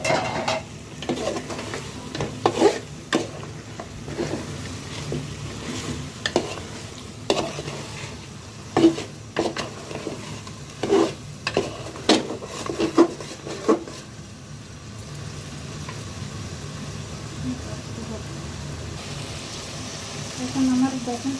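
Meat frying in oil with roast masala in a pan, a steady low sizzle under repeated scraping stirs of a spoon against the pan, with a voice talking intermittently over it.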